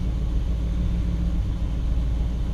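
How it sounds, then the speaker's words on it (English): A 1959 Chevrolet Bel Air engine idling steadily while warming up, a low continuous rumble at close range with no speech. "I'll get the air checked in the tires while the engine warms up for a minute or so"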